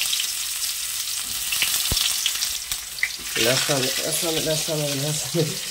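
Onions fry in oil in a pan, with a steady sizzle and a few clinks at first, followed by a voice talking over the frying.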